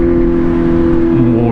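A Kawasaki Z900 motorcycle exhaust revs nearby with a loud, steady engine drone and a slight dip in pitch near the end.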